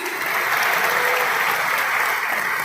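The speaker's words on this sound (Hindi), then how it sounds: "जोरदार तालियां हो जाए प्लीज" A crowd in an indoor stadium claps steadily and loudly, a dense continuous applause with no pauses.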